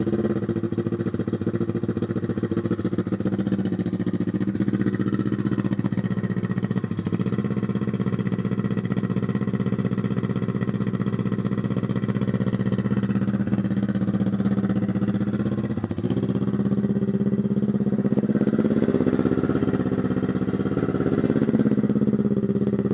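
A 2012 Kawasaki Ninja 650 with a custom exhaust idles loudly and steadily nearby, its deep, continuous burble dipping briefly a couple of times.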